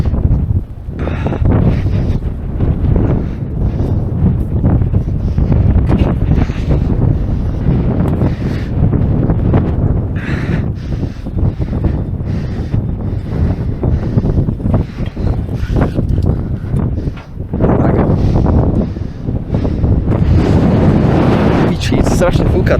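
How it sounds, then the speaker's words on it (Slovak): Strong wind roars at the top of a 212 m meteorological tower beside a nuclear power plant, a loud continuous buffeting that batters the microphone throughout, with people talking under it. "Strašne fúka tu."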